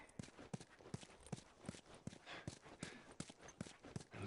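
Horse hooves clip-clop in a steady walking rhythm on hard ground in The Last of Us, each strike crisp and fairly close, with faint background ambience.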